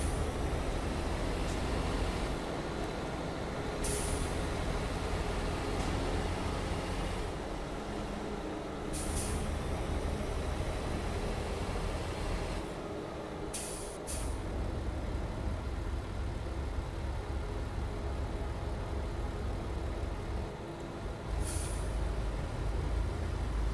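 Truck traffic in Euro Truck Simulator 2 on a Colombia map mod: a steady engine drone and road rumble throughout, with several short hissing air-brake bursts standing out.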